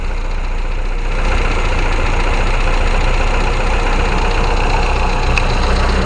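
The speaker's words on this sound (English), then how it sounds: "I'm going to estimate the idle at probably 800 RPM or so." A 1968 Volvo Amazon 220 with a Weber carburettor idles smoothly at around 800 RPM, a steady, even engine hum that runs alone throughout at close range.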